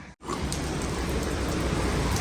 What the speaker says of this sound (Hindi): बारिश हो रही है बहुत ज़्यादा, दमादम बारिश हो रही है।